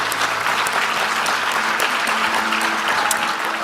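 Applause and cheering from an audience at an award ceremony, loud and steady throughout with scattered whoops rising above the clapping.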